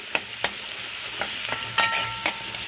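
A chopped tomato drops into a pan of frying garlic and sizzles steadily, with a few sharp clicks of stirring against the pan over the constant hiss, and no voices.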